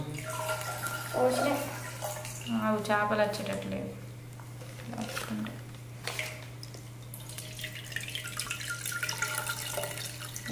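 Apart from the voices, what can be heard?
water being poured into fish tank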